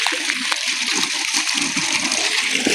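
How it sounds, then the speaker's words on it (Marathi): Sheva water pump motor pumping water on a farm, a steady, loud rush of gushing and splashing water with no break. "हा शेवा कंपनीची चांगली पाणी मारते राव"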